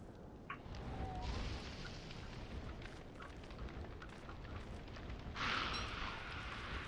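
A fire burns in the game Don't Starve with a steady crackling roar, a few small pops, and a brighter hissing flare-up near the end.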